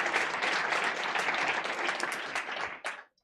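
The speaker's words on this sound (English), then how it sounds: "give her a round of applause." An audience at a Lionesses of Africa event gives a round of applause, a full, even burst of clapping that holds steady and then cuts off abruptly after about three seconds.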